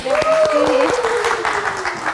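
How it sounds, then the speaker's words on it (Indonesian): A studio audience at a live evening talk show claps to welcome a young musician guest, a short, fairly loud patter of applause with a sustained tone and a voice running over it. "silakan kita kasih tepuk tangan."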